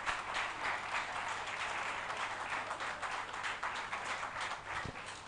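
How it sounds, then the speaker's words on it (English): Sustained applause from an audience at a school presidential candidates' debate, steady dense clapping filling the whole stretch without a break. "Let's give a round of applause to these presidential candidates."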